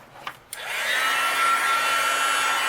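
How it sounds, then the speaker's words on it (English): Heat gun melting clear embossing powder on a birthday card, starting with a couple of clicks and then a steady close whooshing blower hum that runs on alone. "I'm going to use my heat gun"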